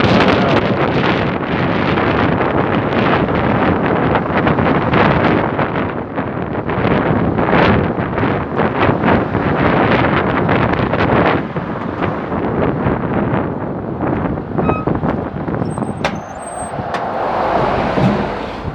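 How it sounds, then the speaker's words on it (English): Strong wind roars on a hilltop, buffeting the microphone in continuous loud, gusty blasts for the whole stretch with no talking. "I think it's pretty windy up here."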